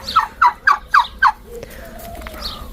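Hens roaming a village yard give five quick, evenly spaced calls, fairly close and loud, then fall to softer, scattered sounds.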